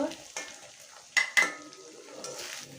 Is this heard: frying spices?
yes